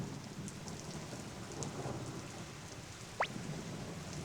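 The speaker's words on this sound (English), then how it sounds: "It won't stop raining." Rain falls steadily in the role-playing game Suikoden, a constant hiss of drops with brief brighter patters and a short sharp crack near the end, quiet and without talk.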